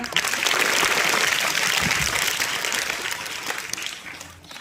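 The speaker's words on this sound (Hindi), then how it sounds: "गणेश के लिए तालियां।" Applause for a student at a school event rises at once into sustained clapping from a crowd of listeners, holding steady for several seconds before tapering off.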